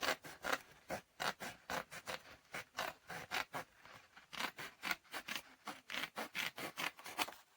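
Scissors snipping through cardstock paper scraps in a rapid, regular run of short crisp cuts, close and fairly quiet with no talking.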